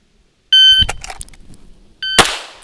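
Electronic shot timer sounds a sharp tonal beep, then a few soft handling clicks follow, and a second beep arrives about a second and a half later, ringing out loud and close.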